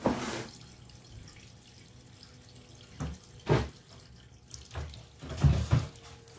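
Bathroom tap water pours over clams being rinsed clean, a steady running and dripping stream broken by louder splashes and sloshes near the end.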